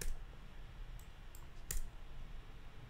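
A computer mouse clicks a few times, soft and close, in an otherwise quiet room, with one sharper click standing out among the lighter taps.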